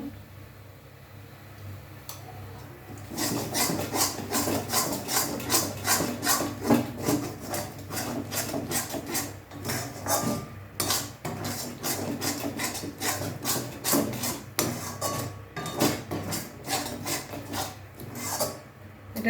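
Thick taro paste being stirred in a pan, rhythmic scraping and rasping strokes repeating steadily and close by after a quieter start, with no talking.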